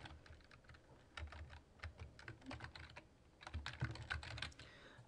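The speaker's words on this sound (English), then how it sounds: "Type in the name of the city." Someone types on a computer keyboard, a quiet, close patter of uneven keystroke bursts with brief pauses between runs.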